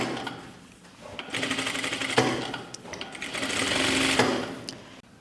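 A sewing machine runs a seam on a blouse, a loud close mechanical whir in two long bursts with a brief pause between, ending abruptly.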